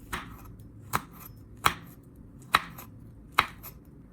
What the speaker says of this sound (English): and chop it into small pieces.